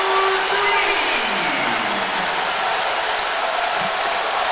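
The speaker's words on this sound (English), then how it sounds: "crowd's getting loud, trying to send us into halftime with the lead" A basketball arena crowd at a Big 12 men's game between Cincinnati and Oklahoma roars loudly and steadily after a three-pointer, with a commentator talking over the cheering.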